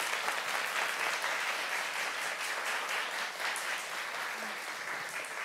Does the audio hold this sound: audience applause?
yes